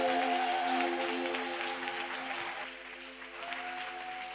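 A church congregation applauds and cheers in praise of Jesus, a steady wash of clapping carried across the clip, with sustained musical tones from the service running underneath and easing slightly toward the end.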